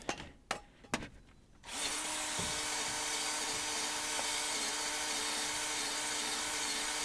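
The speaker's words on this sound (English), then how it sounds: "we're just gonna finish up running a wire brush around this thing so that we can get the corrosion problem" Steady wire-brush scrubbing of corrosion off the outer CV joint on a GM 4WD K truck front axle half shaft, a continuous close abrasive rasp after a few sharp knocks at the start.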